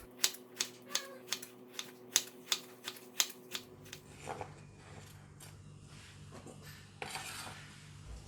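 A knife chops luffa gourd into bite-sized triangles on a cutting board, about a dozen crisp, evenly spaced knocks close by, followed by softer clattering and handling sounds.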